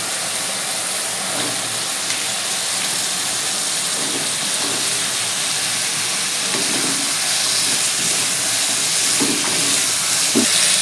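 Malabar spinach stalks sizzle steadily in hot spice masala for a Bengali-style curry, a continuous loud frying hiss with occasional soft stirring knocks and no talking.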